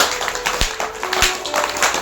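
An audience at a devotional Bhagavat katha gathering claps hands, several sharp rhythmic claps standing out over a diffuse crowd patter.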